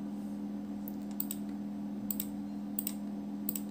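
Mouse clicks tapping while filtering grade entries in an MS Excel sheet, several sharp isolated clicks spaced about half a second to a second apart over a steady low electrical hum.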